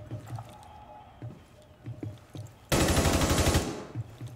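Pistol fire in Rainbow Six Siege bursts in as a loud, dense rapid volley lasting about a second, surrounded by quieter game ambience and soft thumps.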